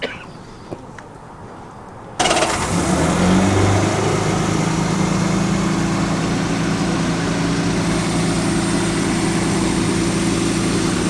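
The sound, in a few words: classic car engine idling with carburettor sucking noise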